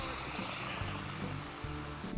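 A large radio-controlled model helicopter with a 4.5 m main rotor flies nearby, its steady engine drone and rotor thrum filling the whole stretch with a continuous, fairly loud hum.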